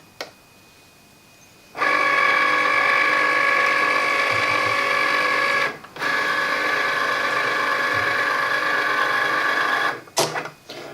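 A vinyl cutting machine works through printable vinyl loaded on its cutting mat, giving a steady, close mechanical whir that starts abruptly, stops briefly twice, then ends with a few clicks.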